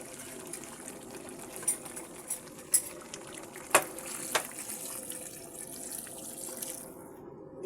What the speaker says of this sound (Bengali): দিয়ে দিলাম গরম পানি।